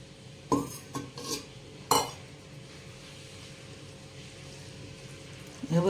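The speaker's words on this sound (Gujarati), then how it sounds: "હવે બધું આ રીતના આપણે મિક્સ કરી દઈએ." A spoon clinks and scrapes in a bowl while ginger, garlic and mango pickle is mixed with cooled oil, giving a few sharp metallic knocks and stirring scrapes, then quieter stretches.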